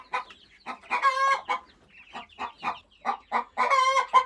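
A black American-breed broody hen clucks repeatedly in short, close bursts with a few longer calls, heard alone with no talking.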